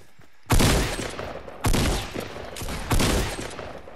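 Three loud bursts of gunfire in the Fortnite video game, each a sharp onset with a ringing tail, landing about a second apart, with no talk over them.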